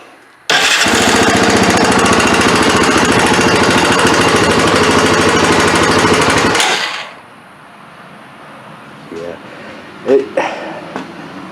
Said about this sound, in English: let's see if she'll fire back up